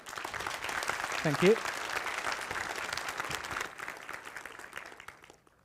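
Audience applause for a speaker at the code::dive 2024 programming conference, steady broadband clapping from a room full of people lasting several seconds and fading out, with a brief spoken thanks near the end.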